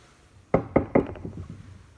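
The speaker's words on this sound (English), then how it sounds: "Then there's a knock on the door." Three firm knocks sound on a wooden door, close and crisp, followed by a few quicker, softer taps that fade out in a quiet room.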